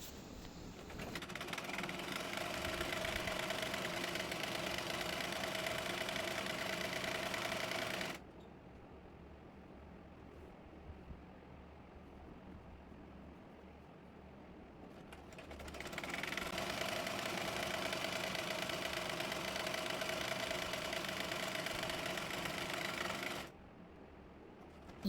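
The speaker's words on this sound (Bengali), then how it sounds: "এবার মোহরি অনুযায়ী এই প্লাজোটি সেলাই করে নেব।" A sewing machine stitches the hem of a palazzo, running in two long steady bursts of fast rhythmic whirring with a quieter pause of background hum between them.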